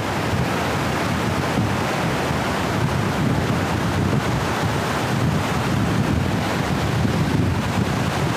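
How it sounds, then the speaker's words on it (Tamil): A waterfall in a remote forest, with possible spray or drizzle in the air: a constant broadband roar of rushing water, loud and unchanging throughout, with buffeting wind noise on the microphone and no voices. "இந்த ஃபால்ஸ் பாருங்கள், இந்த ஃபால்ஸ் சூப்பரான ஃபால்ஸு"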